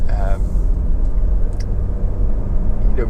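A Honda CR-V 2.0 i-VTEC EX automatic 4WD drives over a rough road surface, making a constant low cabin rumble and road roar while someone talks throughout.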